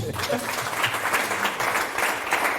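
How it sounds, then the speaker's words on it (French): Applause from a church audience fills the space steadily with dense clapping, plus some voices early on. "Est-ce qu'on peut applaudir?"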